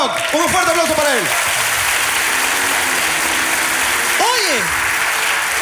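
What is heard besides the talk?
audience applause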